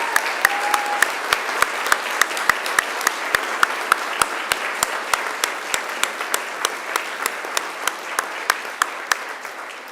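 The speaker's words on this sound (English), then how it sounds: "Turn to your families, please, and give them a mighty round of applause." A large graduation ceremony crowd, graduates turning to applaud their families, fills the room with steady, dense clapping throughout, sustained and even with sharp individual claps standing out.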